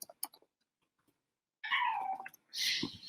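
House cats in a room give a few faint clicks and rustles, then two loud, drawn-out meows, close to the listener, separated by a brief pause.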